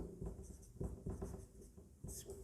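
Pen scratching across paper while an astrology chart is drawn out by hand, with short irregular strokes and pauses close by and no talk over it.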